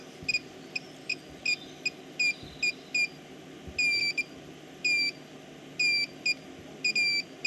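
Electronic beeping in short high-pitched bursts, irregularly spaced, repeating over a steady low mechanical hum from a DIY 18V Makita battery inverter generator drawing about 2 kilowatts.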